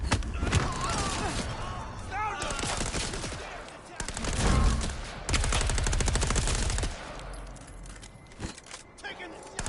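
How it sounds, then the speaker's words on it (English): Loud bursts of gunfire in Vampire: The Masquerade – Bloodlines 2 crackle in rapid volleys, mixed with a voice and other game sounds. "Whoa! Firing!"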